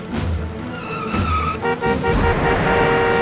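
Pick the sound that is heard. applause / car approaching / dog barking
car approaching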